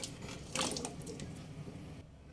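Cut pieces of potato go into a pot of water for boiling, giving a close, steady splashing and sloshing wash with a brighter burst of splashes early on before it settles.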